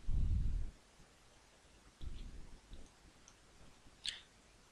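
Computer mouse clicks while saving an IP Office configuration, a few faint, sharp clicks amid low handling rumble and quiet room noise.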